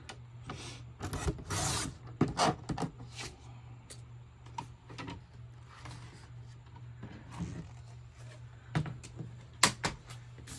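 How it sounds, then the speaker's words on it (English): Scissors trimming a paper file folder while crafting a folio from file folders, giving intermittent rasping cuts and rubbing sounds in bursts, fairly close, with quiet pauses between strokes and no talking. "And I'm gonna trim this off."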